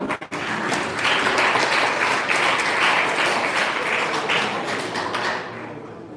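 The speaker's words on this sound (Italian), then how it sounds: "Bell'applauso per cortesia." Crowd applause at an Olympic-style boxing event in Verona rises after a brief thump and holds steady and loud as dense clapping for about six seconds, then thins slightly at the end.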